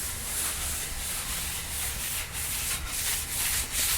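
Close, soft brushing and scrubbing strokes repeat in a steady back-and-forth rhythm, a dry rustling texture with no voices.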